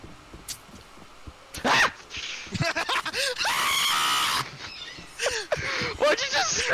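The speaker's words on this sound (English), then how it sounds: "Why'd you just scream all of a sudden?" A player lets out a sudden loud scream during a shooting video game with banana-shaped guns and knives, a sustained high-pitched yell standing out above intermittent nearby chatter and game sounds.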